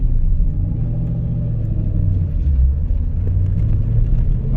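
A 2010 Dodge Challenger SRT8 V8 engine pulling in first gear, a steady deep rumble heard close and continuous with no talking.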